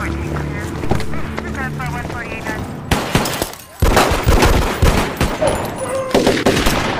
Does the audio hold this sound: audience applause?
no